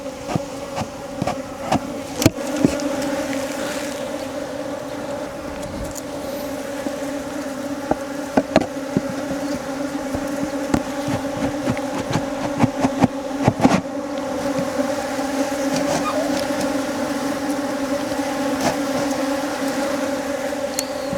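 Honeybees buzz steadily around an opened wooden hive during an inspection, a dense continuous drone close by with occasional sharp knocks and clicks from handling the hive.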